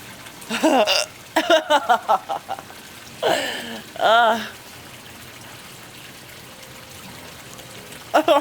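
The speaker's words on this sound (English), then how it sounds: "Okay, hiccups, you can stop now." Repeated hiccups come in a person's voice: a rapid cluster of sharp spasms, then two more spaced jolts and a last one at the end. The sounds are close and loud, with groans mixed in.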